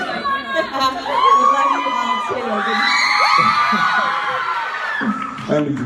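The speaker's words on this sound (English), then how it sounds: "Room full of screaming women." A room full of women scream, whoop and cheer at a fan convention Q&A with the actress Lana Parrilla, loud and sustained for several seconds, with overlapping shrill yells throughout.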